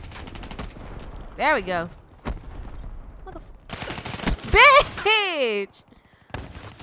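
Gunfire from shooting an enemy in Call of Duty: Black Ops 3 Kill Confirmed multiplayer, short bursts of shots mixed with game effects and a player talking excitedly over them.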